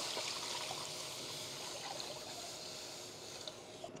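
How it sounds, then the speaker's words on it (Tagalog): Water poured into a cooking pan to boil noodles for pancit canton, a steady close splashing trickle that runs without pause for the whole stretch. "So maglalagay lang tayo ng tubig."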